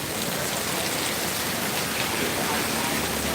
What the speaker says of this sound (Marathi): पण खूप पाऊस आहे